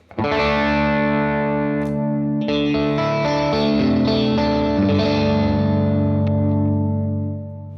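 Electric guitar run through a custom three-button effects pedal layout, moving from a cleanish tone into a swelling pad and then a driven overdrive; sustained chords ring loud and alone, thickening with shimmer and distortion before fading at the end.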